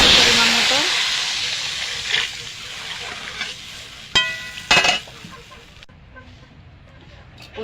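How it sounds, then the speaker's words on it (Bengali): Taro curry with fish frying in a pan, a loud hissing sizzle that fades gradually, interrupted by a few scraping stirs and clanks near the end. "তরকারিটা একটু ভেজে নিয়েছি"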